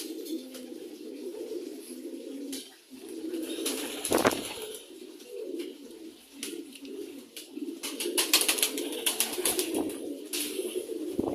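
Several pigeons, an adult and its young among them, cooing close by in low, throaty rolling calls, with occasional wing flutters and scuffling.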